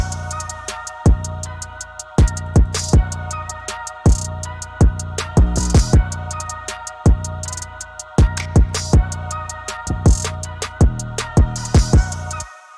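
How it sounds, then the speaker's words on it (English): A deep electronic 808 bass pattern made in FL Studio thumps in a repeating rhythmic loop, each hit sliding and sustaining under crisp percussion, loud and up close. "So now my 808 sounds like this."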